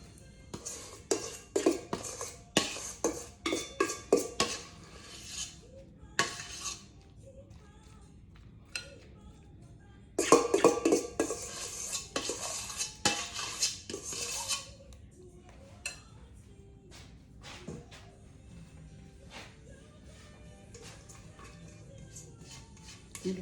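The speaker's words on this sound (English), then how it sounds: "Need to get every bit that I can get out of this pan here." Fruit is scraped out of a pan into a bowl with a utensil, giving quick bursts of clinking and scraping strokes, clustered in runs with quieter pauses between them.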